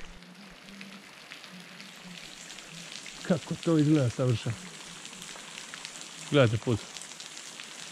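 Water from a waterfall sprays down onto a mountain road in Bolivia, the so-called Death Road, making a steady rain-like hiss throughout while someone speaks briefly over it.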